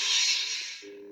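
A Legacy Luke Skywalker toy lightsaber switches on with a bright, hissing ignition burst that fades after about a second, settling into a steady low electronic hum, heard alone and up close.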